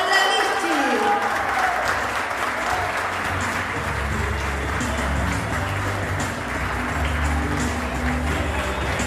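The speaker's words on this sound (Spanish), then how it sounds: "Recibimos con un fuerte aplauso a Mónica Alejandra Vichy" Audience gives strong applause at a news event honoring a retiree, a dense, sustained roar of clapping for about nine seconds, with a low musical or crowd rumble underneath.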